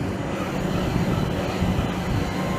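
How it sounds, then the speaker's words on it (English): A London Overground train approaches a platform at Norwood Junction on a summer afternoon, a steady, loud rumble of wheels and carriages close by, with no voices. "The train now approaching platform 5 is the 1648 London Overground service to West Croydon."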